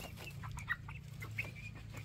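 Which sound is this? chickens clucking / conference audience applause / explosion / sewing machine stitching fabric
chickens clucking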